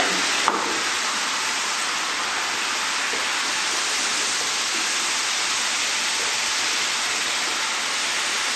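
Boiled banana flower is stirred in a pan with spices, giving a loud, steady sizzle and frying hiss with faint scraping throughout, close by and with no talking.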